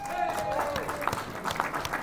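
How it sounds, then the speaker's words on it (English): A conference hall audience at a Libertarian Party presidential debate applauds the moderator. Steady, dense clapping fills the whole moment, with a voice speaking over it. "Round of applause for Gene."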